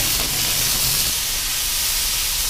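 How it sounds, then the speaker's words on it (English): Beef stir-frying on a hot FireDisc cooker gives off a loud, continuous sizzle and hiss that stays steady and close throughout, with no talking. "we're going to put in some beef, and we're going to give this a quick stir fry"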